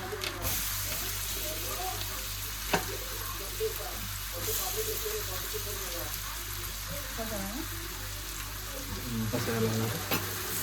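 Onion, ginger and garlic fry in butter in a home kitchen while pav bhaji is being made, giving a steady, moderately loud sizzle throughout with a few sharp spoon clicks against the pan and soft background noise.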